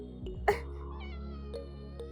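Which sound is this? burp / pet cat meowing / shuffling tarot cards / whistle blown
pet cat meowing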